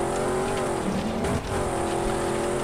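Off-road rally car in the Dakar 18 racing game driving across changed terrain, a steady loud engine drone with tire noise and a brief dip midway, continuous with no talk.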